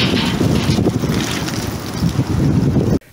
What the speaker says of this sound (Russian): Штормовой ветер повалил деревья.